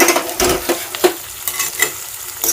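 Thinly sliced onions and cumin frying in a pan for capsicum fry, stirred with rhythmic scraping strokes over a soft continuous sizzle, close and clear with no talking.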